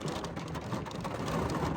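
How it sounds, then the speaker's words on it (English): Rain falls outside on a wet day in Washington, a steady, dense hiss of drops that stays even and unbroken throughout, with no voices. "It is a rainy day here in Washington."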